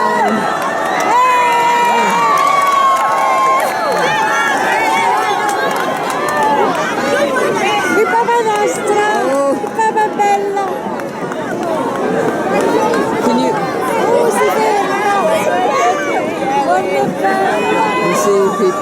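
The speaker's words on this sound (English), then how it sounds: "Here comes Francis right now. Crowds pushing, screaming," A dense, loud crowd screaming, cheering and yelling continuously as Pope Francis arrives at a canonization event, with overlapping shouts and excited voices throughout.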